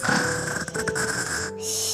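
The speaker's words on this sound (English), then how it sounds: "for such a little mouse, he sure does have a loud snore" A toy mouse snores loudly and steadily in a cozy banana bed, a continuous rasping drone that holds through the whole stretch with no talking over it.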